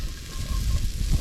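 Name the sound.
garlic and onion sizzling in an oiled pan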